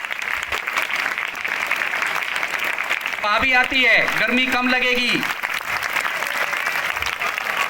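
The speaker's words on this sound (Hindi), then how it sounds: "इतना तो खाया होगा कि 30 सेकंड तालियां बज जाएं।" A school audience at an Independence Day cultural program applauds steadily, with continuous clapping throughout and a voice speaking briefly over it midway.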